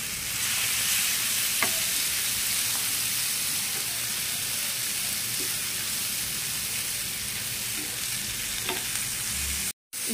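Roasted gram (putnalu) frying in a pan for chutney, giving a loud steady sizzle with occasional light stirring clicks, continuous until it cuts out abruptly near the end.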